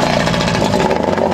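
Outboard boat motor running on the Samarga river in autumn, a loud, steady buzzing engine drone close by with slight throbbing pulses.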